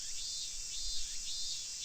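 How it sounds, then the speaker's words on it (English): Cicadas cry in a visual novel game scene, a steady, dense, high-pitched shrill drone that fills the whole stretch with no voices. "The deafening silence was broken only by the cries of the cicadas."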